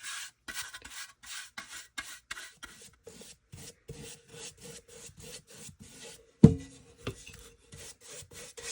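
Clear wax rubbed onto painted furniture with a cloth, a quiet, rhythmic scrubbing in short close strokes, with one brief louder knock near the end.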